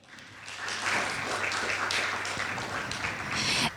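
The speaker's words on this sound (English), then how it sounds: "I would like to ask you to give a round of applause for the organizers of today's" Audience applause for the organizers at the opening of an urban development practices panel, a dense steady wash of many hands clapping that swells and holds for several seconds with a faint low hum beneath.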